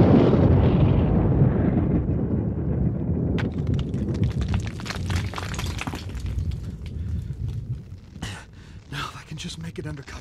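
Explosion of a crashed, burning fighter ship in a sci-fi audio drama, a loud rumbling blast that fills the opening seconds, then settles into crackling debris and rubble with sharp bursts, all at high level with no talk.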